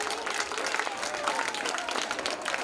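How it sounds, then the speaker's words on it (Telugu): Audience at a school silver jubilee celebration applauding loudly and continuously, a thick crowd of clapping hands throughout, with faint voices mixed underneath. "గట్టిగా గట్టిగా చప్పట్లు పెట్టాలి."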